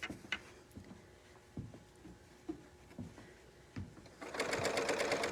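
A Bernina overlocker hums along with soft rhythmic thumps, then speeds into a loud, rapid rattling run of stitching through fabric.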